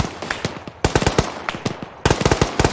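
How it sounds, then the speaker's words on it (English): Bursts of rapid automatic gunfire in the military game ARMA, several volleys of sharp close shots with brief pauses between them, loud and alone. "We're getting shot from the east!"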